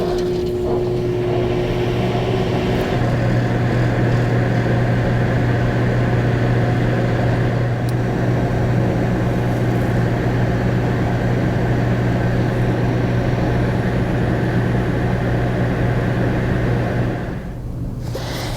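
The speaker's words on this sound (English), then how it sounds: "this is a high volume microwave. Let's close and begin." A high-volume microwave oven cooking an egg scramble hums continuously at an even level with a low tonal buzz, then stops abruptly near the end.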